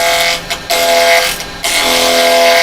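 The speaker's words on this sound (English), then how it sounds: "Let's start it up and start turning." A wood lathe hums loud and close with a steady tonal motor whine, dipping briefly twice before settling back into a constant drone.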